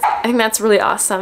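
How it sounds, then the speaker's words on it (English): A dog barks and yips in short bursts close by while a person talks over it. "sorry about my dog."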